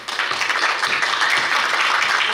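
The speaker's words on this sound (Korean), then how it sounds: "뜨거운 박수로 환영해 주시기 바랍니다." A seated audience at a Korea University graduate school entrance and inauguration ceremony gives warm, continuous applause, an even rush of many hands clapping throughout.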